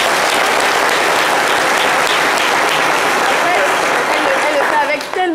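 Sustained audience applause at a French live show, dense and loud throughout, fading slightly at the very end.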